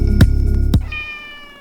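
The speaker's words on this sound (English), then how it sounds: "This is the cat that is right here." A female cat meows close by in one clear, tonal call, with a couple of soft thumps just before it.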